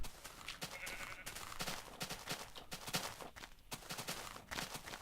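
Sheep in Minecraft bleating and shuffling in a flock, a busy run of short overlapping bleats and soft stepping sounds, moderately close, with no talking.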